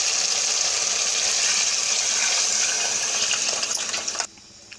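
Measured water is poured straight into a cooking pot holding soaked rice for a wild mushroom biryani, a steady loud gushing pour lasting about four seconds before it stops abruptly.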